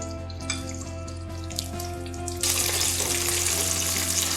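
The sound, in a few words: chicken frying for homemade KFC-style fried chicken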